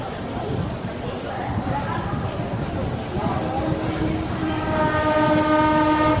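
Pothigai Express passenger train running toward Srivilliputhur, a continuous rolling rumble with rail noise throughout and sustained horn tones rising near the end.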